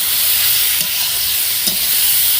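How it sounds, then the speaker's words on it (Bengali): Hot water goes into a pan of frying potatoes and ridge gourd, a loud, dense steady hiss of sizzling steam with two light clinks from a utensil, close up and with no talking. "গরম জলটা এখানে দিয়ে দেবো।"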